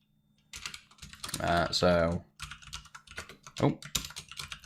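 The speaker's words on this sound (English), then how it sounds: "I've changed keyboards as well, so I'm a bit slow at typing at the minute." Keys clatter on a computer keyboard in slow, irregular bursts of typing with a pause or two, close and clear, while a voice talks over part of it.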